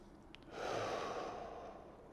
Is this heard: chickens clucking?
no